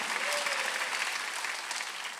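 A church congregation claps together in a sustained burst of dense, even applause that fills the room at moderate loudness, with no voices over it.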